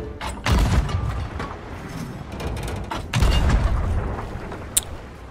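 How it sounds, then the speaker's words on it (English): Cannon flare firing in a video game: two heavy booming blasts about three seconds apart, loud and close, each with a rumbling tail, followed by a short sharp crack near the end. "let's go ahead and get the cannon flare"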